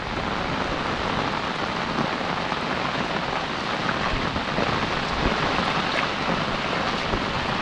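Steady, dense rain pours down continuously with no voices, a loud, even downpour hissing across the whole stretch.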